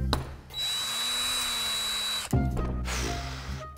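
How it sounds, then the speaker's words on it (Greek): A cordless drill-screwdriver whirs steadily for about two seconds while being used to peel a potato, its motor tone holding level before cutting off with a clunk and a short second burst of handling noise and mechanical rattle. "Θα καθαρίσουμε την πατάτα με το δράπανο κατσάβιδο."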